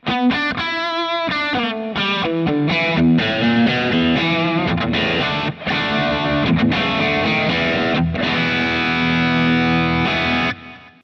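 A heavily distorted electric guitar plays a fast, choppy lead through a high-gain amp, notes cutting in and out with thick saturated tone.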